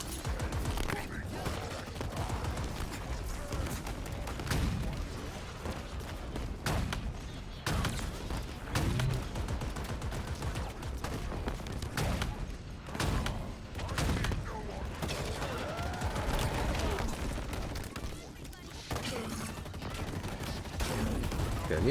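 Sustained bursts of gunfire from allied troops in Halo Infinite, rapid volleys and thuds going on continuously at moderate distance, with a player talking over the shooting.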